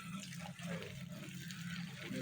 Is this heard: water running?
yes